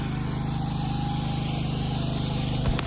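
A tractor engine runs at a steady idle, a loud, even low-pitched throb that stays constant from start to finish with no speech over it.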